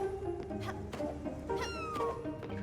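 A cat meows in the game Spiritfarer, a couple of short rising calls over a steady bed of game music and ambience, moderately loud throughout.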